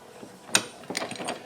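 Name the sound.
case assembly tool handle flipped out and threaded on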